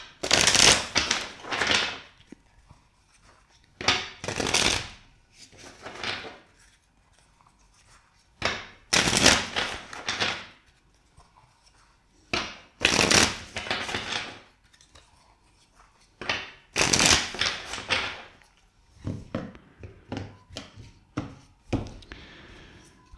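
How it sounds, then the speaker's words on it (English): Tarot cards are shuffled by hand in repeated bursts, riffling and sliding sounds close to the listener, separated by short pauses, about four or five rounds, with no talking. "First, let's shuffle the deck four times."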